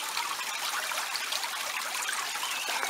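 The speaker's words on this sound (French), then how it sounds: "Quant à ce cours d'eau, il traverse également la commune et se jette dans la grande rivière." Water from a small stream trickles steadily through a village in the Lot, a continuous broadband babble that stays even and close, with no voices over it.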